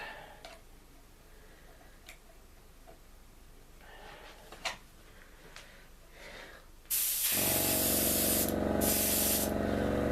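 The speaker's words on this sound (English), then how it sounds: "Okay, let's start spraying." Airbrush spraying Tamiya XF26 deep green paint onto an A-10A Thunderbolt II scale model, quiet ticks and handling noises first, then a loud, steady hiss of compressed air and paint that continues to the end.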